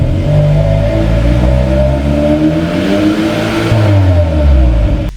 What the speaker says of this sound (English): The Sonata N Line not only looks aggressive but also sounds like a roaring lion.